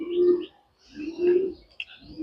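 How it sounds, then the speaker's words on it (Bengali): Racer pigeons, a male and female pair, coo nearby in two distinct rounded, throaty phrases separated by a short pause, with a faint chirp at the end. "এখানে এটা হচ্ছে নর কবুতর এবং এটা হচ্ছে মাদি কবুতর"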